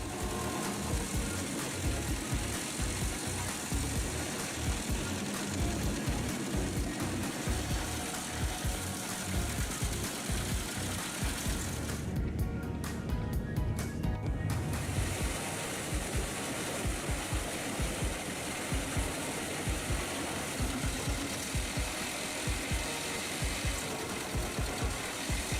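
A Pezzolato PTH 1000/1000 drum wood chipper with a 450-horsepower MAN engine runs steadily, a dense mechanical roar with rapid rhythmic knocking pulses throughout and a brief dip midway.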